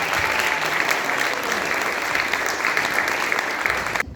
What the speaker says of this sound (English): so let's give yourselves a big round of applause.